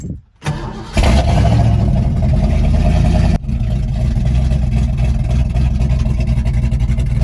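A 1991 LX car with a cam starts up and idles in neutral, a loud, close, lumpy choppy rumble with an uneven loping rhythm that holds steady after a brief pause.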